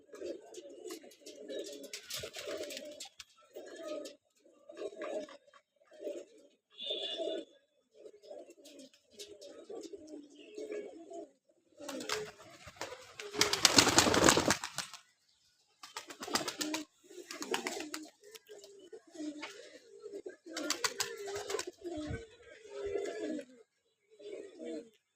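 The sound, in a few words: pigeons cooing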